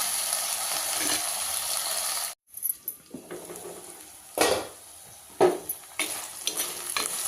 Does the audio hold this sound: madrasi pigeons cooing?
no